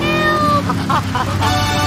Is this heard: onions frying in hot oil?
no